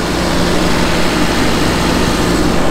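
A farm tractor bogged down to the axle in a wet, muddy wheat field keeps running, its engine a steady, loud, unbroken drone with a dense low rumble and no pauses.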